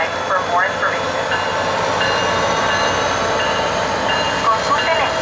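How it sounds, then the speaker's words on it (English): A SunRail commuter train departs past a standing locomotive, its loud steady rumble and rolling wheel noise close by, with squealing tones and clanks rising and fading over the passing cars. "I stood by the locomotive while P333 departed"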